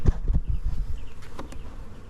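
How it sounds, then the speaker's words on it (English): Honey bees buzzing in a hive box during a mid-April inspection, a steady close drone with low thumps and knocks of handling near the start, no talk. "they look like they are packed with bees"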